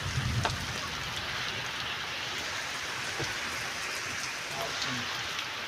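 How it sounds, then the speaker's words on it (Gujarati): Heavy rain falls in Lilapur village, Halvad taluka, a dense continuous patter with a brief low rumble near the start, then the steady downpour alone. "ગાજવીજ સાથે વરસાદ છે અહીંયા અત્યારે"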